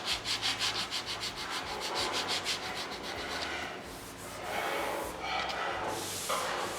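Soft 240-grit paper rubs over cured epoxy filler on a car body panel, a close rhythmic scratchy sanding of quick strokes at first, then longer irregular passes and brief pauses.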